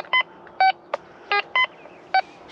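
A metal detector sounding over a find in the ground, giving six short, bright electronic tones in an irregular sequence, loud and close against a quiet background.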